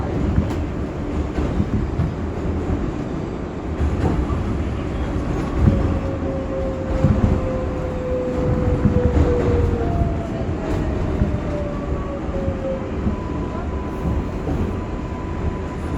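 An R142A subway train runs as a Bronx-bound 6 local on the IRT line, its loud, steady wheel rumble and rattle filling the car while the traction motors' tonal whine glides in pitch across the ride.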